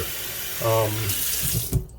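Tap water runs into a pot of cut potatoes in a home kitchen sink, a steady close splashing and gushing stream with a brief voiced hum in the middle and a clunk near the end.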